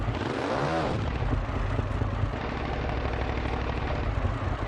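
A 2015 Ducati Scrambler 800 Icon in the racing game Ride 2 pulls away under a loud, continuous engine roar that rises in pitch as the motorcycle accelerates, with no talk over it.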